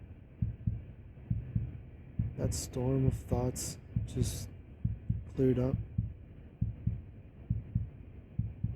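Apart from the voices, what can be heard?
fast heartbeat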